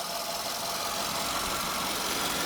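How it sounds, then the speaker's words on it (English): A 2011 Ford F-150 King Ranch pickup with a 5-liter V8 running at idle, a steady broadband mechanical hum and rumble heard close up, continuous and even with no voices. "But anyway, this engine runs amazing, really awesome, very powerful."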